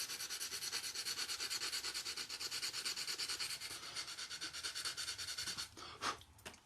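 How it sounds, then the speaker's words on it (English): A sanding stick rubs back and forth on the leading edge of a 1/48 scale Trumpeter Su-24 Fencer plastic model kit, a close, rhythmic rasping scrape of quick strokes that slows and stops near the end. "we're going to sand that in now. So we use a normal type of sanding stick"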